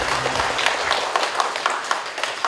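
Audience applause at a book launch for a full-length novel, a dense patter of clapping through the short stretch, fading slightly toward the end, with a hint of voices underneath.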